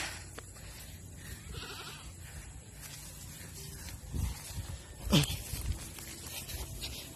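Native goats on a Cebu cattle farm bleating: a loud, wavering bleat near the middle and a few fainter calls around it, set against outdoor ambience and scattered farm noise.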